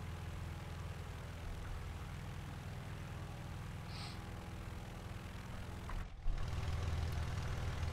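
Propeller engine drone of an IAR 81C fighter in flight in a combat flight game, running overheated: a steady low hum throughout, with a brief dip near the end before it resumes slightly louder.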